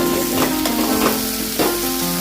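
Fish cooked with spices sizzles loudly in a hot pan, a continuous close crackle with a few stirring scrapes and no voices.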